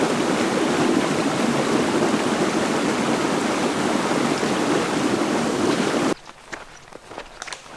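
Steady broadband rush of a flowing stream where water is being filtered on a backpacking trip, loud and continuous for about six seconds before dropping away abruptly to a quieter background with faint ticks.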